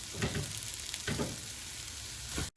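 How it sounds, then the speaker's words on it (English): Red onions sizzle steadily in a frying pan on maximum heat, a continuous crackling fry with a few louder spatters, fairly soft throughout. "In a preheated frying pan on maximum heat, add the onions, the red onions."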